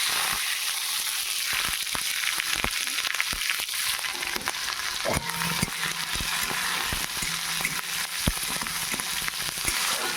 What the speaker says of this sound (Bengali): এই যে পেঁয়াজ কুচি ক্যাপসিকাম কুচি রসুন কুচি টমেটো কুচি আমি একসাথে দিয়ে দেবো